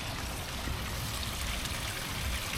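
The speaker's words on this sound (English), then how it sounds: "There's a little stream going down." A small mountain stream spills down like a little waterfall, giving a steady, close, hissing trickle that holds throughout with no voices.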